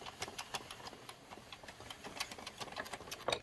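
An Addi circular knitting machine is cranked as it knits, giving a quiet run of rhythmic clicks and ticks at an even pace, close by and faint, with no talking.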